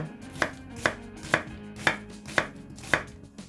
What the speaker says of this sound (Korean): 양파를 채 썰어 주시고요.